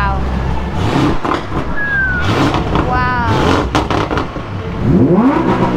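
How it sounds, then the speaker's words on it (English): Supercar engines, a Lamborghini Urus Mansory and others, rev loudly in a back-and-forth rev battle on a Dubai street, with rising and falling engine notes under crowd talk. "We've got a rev battle now."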